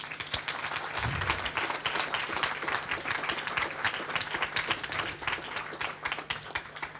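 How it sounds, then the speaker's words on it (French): An audience at a French youth ideas event claps warmly in a continuous, dense round of applause that holds steady for several seconds at moderate volume. "on peut l'applaudir très fort"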